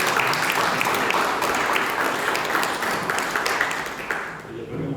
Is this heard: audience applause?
yes